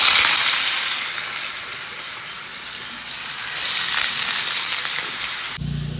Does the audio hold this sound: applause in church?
no